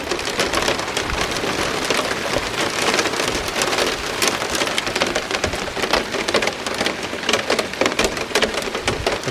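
Torrential rain pours steadily over the bush, a dense, loud, continuous hiss of drops drumming on surfaces, with faint low rumbles like distant thunder beneath it.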